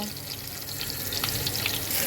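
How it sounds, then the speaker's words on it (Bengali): Pieces of katla fish fry in hot oil with a brief, steady hiss and light crackle, close by and without voices. "তো মাছটা ভাজা হোক যেহেতু বড় মাছ একটু বেশি করে ভাজবো"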